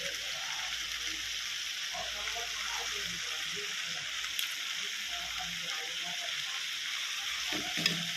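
Prawns sizzle and crackle steadily in a hot pan, a constant frying hiss with occasional faint stirring sounds close by.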